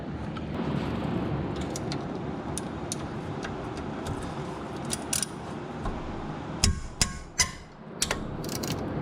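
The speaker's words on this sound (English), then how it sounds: "pull the caliper off first, squeeze in the pucks, then take these larger bolts out to take the pad carrier off" A ratchet works on the large brake caliper bracket bolts of a Dodge Grand Caravan during a pad and rotor job, a steady mechanical background giving way to a few sharp metallic clicks and clanks near the end, fairly close and alone.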